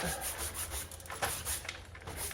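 Dry guide coat rubbed by hand over sanded Bondo body filler on a car panel, a steady close scuffing and rubbing that swells and fades in strokes with no voice.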